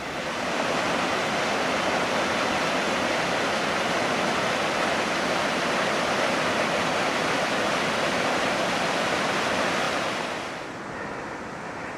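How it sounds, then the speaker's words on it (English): Stream water rushing over rocks and boulders in a gorge at Lost Valley, Glencoe, a loud, continuous close roar that eases slightly in the final seconds. "Well into the gorge. You can hear the water."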